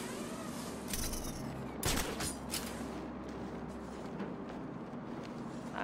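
Sniper gunfire in a Batman video game, a few loud cracking shots standing out over a steady game ambience, with bursts clustered near the start.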